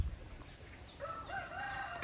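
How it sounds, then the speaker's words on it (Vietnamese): An F3 jungle fowl hybrid cockerel, a young bird rather than an old one, crows once at moderate distance, the call rising and held briefly over faint background noise. "Như trên màn hình mọi người nhìn thấy đây là gà F3 của mình nhé."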